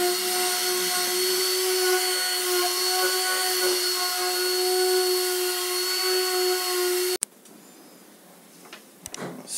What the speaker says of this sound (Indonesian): Setelah kering, kita amplas.